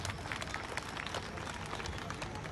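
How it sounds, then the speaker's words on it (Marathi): An audience applauding at a public gathering: dense, continuous clapping from many people, steady and fairly loud throughout with no pauses. "त्याच्यासाठी आपण त्याचं अभिनंदन करणाऱ्या टाळ्या वाजवल्या पाहिजे."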